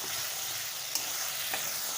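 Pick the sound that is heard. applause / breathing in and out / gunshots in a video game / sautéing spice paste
sautéing spice paste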